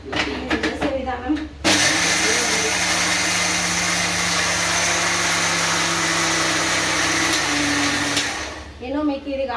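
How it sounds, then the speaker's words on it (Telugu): A mixie grinder blending chutney, a loud steady motor whine running for several seconds, with someone talking briefly before it starts and again after it stops. "ఇది కూడా మిక్సీ పట్టేసి చూడండి"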